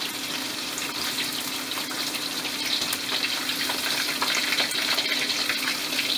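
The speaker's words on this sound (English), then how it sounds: "I took the liberty of frying it again a little bit longer" Chicken pieces being fried a second time in hot oil for a Szechuan dish hiss and sizzle in a steady, dense crackle that holds loud and unbroken throughout, with no voices.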